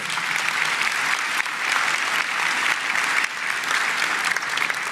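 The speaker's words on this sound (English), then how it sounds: "Give him a round of applause." Sustained applause from a crowd at a county address, dense and steady clapping throughout with slight swells, fairly loud and close.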